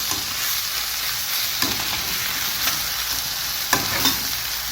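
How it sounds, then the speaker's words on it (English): Beef lo mein noodles are stirred and tossed with sauce in a frying pan, a steady close sizzle running throughout beneath scraping, clattering strokes of the utensil. "just keep stirring these noodles and mixing it together so that it absorbs that sauce"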